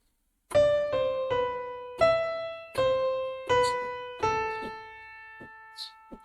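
Keyboard playing the Bella Ciao melody, about seven distinct struck notes in a steady stepwise line, each ringing and decaying, played solo up close without any talking.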